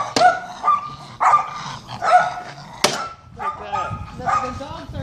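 Several dogs bark in repeated sharp bursts with a few yips and whines, fairly close, while people talk intermittently underneath during car repair work on a tow dolly and radiator.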